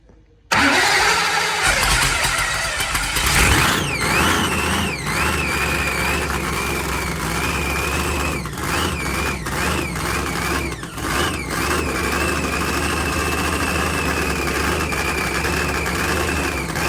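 A 4000hp blown Hemi engine in a Buick Grand National fires up after a brief crank, then settles into a loud, rough, lumpy idle with throttle blips close by, no voices heard.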